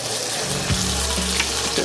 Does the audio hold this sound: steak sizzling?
yes